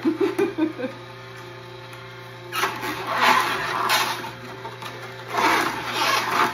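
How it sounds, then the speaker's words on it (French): A slow masticating juice extractor grinds through fresh produce, a low mechanical hum with rhythmic thumping at first, then rough crunching and squeezing bursts that swell and fade. "Ma machine, je l'aime tellement. Extracteur à jus."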